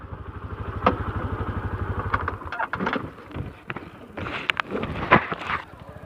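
A motorcycle idles with a low, rapid pulsing putter at a temple entrance, then goes quiet as it is parked, followed by light clatter and people talking nearby.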